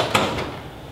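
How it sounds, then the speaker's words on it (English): The paper cassette drawer of a Kyocera TASKalfa copier slides shut with a short, muffled thump and a low rumble that fades out within a second. "I don't see that there's a jam in the cassette, I would shut that drawer"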